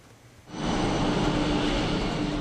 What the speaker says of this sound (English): The Cathay Pacific cargo plane carrying the long-awaited pandas landed at Hong Kong International Airport shortly before midday.